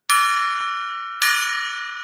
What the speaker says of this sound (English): I'm going to ring the gong 3 times,